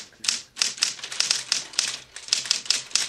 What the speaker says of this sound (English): back in the day, they had these things called typewriters